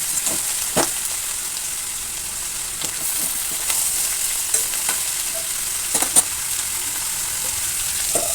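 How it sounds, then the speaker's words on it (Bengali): Pointed gourd with salt sizzles steadily in a hot pan, a constant frying hiss broken by occasional clicks and scrapes of stirring. "নুন দিয়ে ভালো করে নাড়াচাড়া করে ঢাকা চাপা দিয়ে আমি পটলটা লাল করে"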